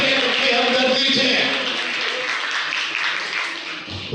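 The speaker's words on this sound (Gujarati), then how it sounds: "એને તાળીઓથી બતાવો" An audience at a Koli community get-together in Vavera claps together in a sustained burst of applause that holds steady, then gradually thins out toward the end.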